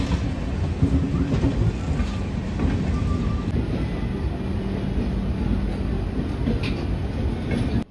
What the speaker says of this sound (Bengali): একের পর এক দূরপাল্লা ট্রেনগুলো ছেড়ে যাচ্ছে হাওড়া স্টেশন থেকে।